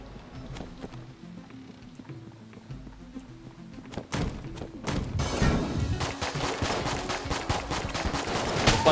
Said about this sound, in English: we're going to be shooting a lot of bullets